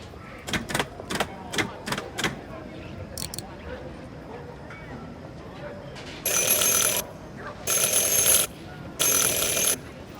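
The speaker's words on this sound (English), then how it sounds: "Ring 3 times for urgent matters." A bell rung in Syberia: The World Before, starting with quick taps and followed by three long, loud rings in a row over a quiet game background.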